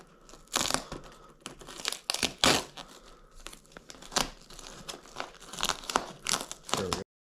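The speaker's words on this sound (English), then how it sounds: "So go ahead and peel this tape off here." Tape being peeled off the vinyl door card of a 2008 Ford Mustang during a repair, with close crinkling and tearing sounds in short bursts, alongside some speech.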